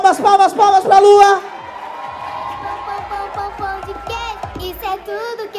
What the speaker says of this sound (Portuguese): Palmas, palmas, palmas pra Lua.